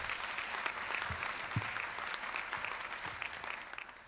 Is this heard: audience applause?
yes